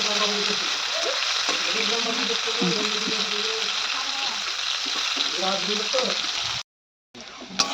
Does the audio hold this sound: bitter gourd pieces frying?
yes